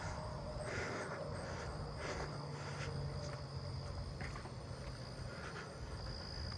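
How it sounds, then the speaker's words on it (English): Two robust conehead katydids buzz at night, one on either side, giving a steady, continuous high drone that is faint and sits amid a constant background chorus of night insects. "I'm hearing a robust conehead somewhere. Two of them actually, one on either side of me."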